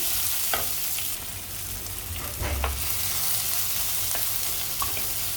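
Large tomato pieces sautéing in oil in a pan for a fish curry, a steady close sizzle broken by a few sharp stirring clicks and scrapes, with no speech.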